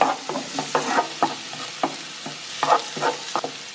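Garlic sizzling in a hot pan while being stirred, a steady frying hiss broken by sharp scraping clicks of the utensil at irregular intervals, close and fairly loud.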